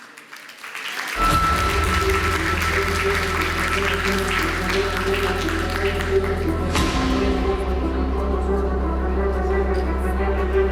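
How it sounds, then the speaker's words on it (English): Audience applause at the Warsaw Security Forum 2022 greeting the next panel, a steady mid-level wash of clapping over a low hum and a sustained tone, continuing throughout. "please, a big round of applause for our next panel"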